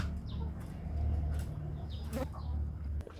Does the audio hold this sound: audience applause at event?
no